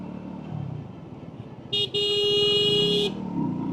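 A single bright horn on a 2025 Lifan K29 250cc cruiser motorcycle blares, a short toot followed by a longer sustained honk, loud and close over a low idling engine.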